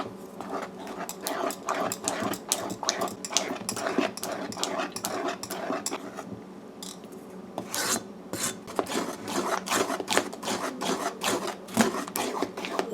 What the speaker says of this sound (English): now you gotta stir it until it thickens